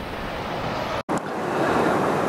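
Sea waves breaking on a shore, a loud continuous wash of surf with wind buffeting the microphone, briefly cut out midway before the roar resumes.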